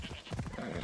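A horse neighs and whinnies in Assassin's Creed Odyssey, a short, fairly loud rising-and-falling call with faint hoof-like clopping beneath it.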